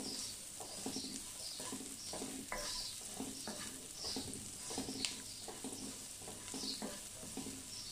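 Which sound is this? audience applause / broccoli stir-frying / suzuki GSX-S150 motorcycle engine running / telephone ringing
broccoli stir-frying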